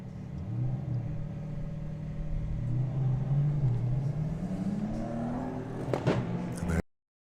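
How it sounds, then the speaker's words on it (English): A BMW drag racing car launches down the strip at a drag racing nationals meet, a loud continuous engine drone that rises in pitch as it accelerates away and cuts off abruptly at the end. "So the BMW will be going first."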